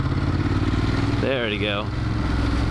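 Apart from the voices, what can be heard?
Ducati Monster 1200 motorcycle engine at low RPM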